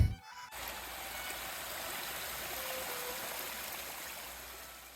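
A small mountain river flows in a soft, steady rush and trickle after a brief start, heard from nearby at a quiet level with no voices.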